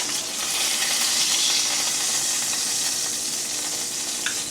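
A seared steak sizzles in very hot oil off the fire, a loud, steady, close hiss and crackle that goes on without a break, with one small clink near the end and no talking.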